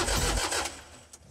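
A homemade engine built from scrap is cranked into life, giving a brief loud, rough burst that quickly dies away into quiet.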